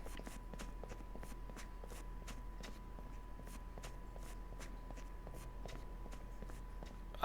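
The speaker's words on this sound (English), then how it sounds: "I like the way the footsteps sound" Soft, steady footsteps in a video game, evenly paced and fairly quiet over a constant low hum and a faint steady tone.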